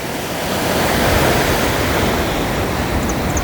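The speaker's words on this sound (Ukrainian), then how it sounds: "Зараз покажу вам океан." Constant wash of waves crashing onto a beach nearby, a broad rushing hiss that barely rises or falls, with nobody speaking.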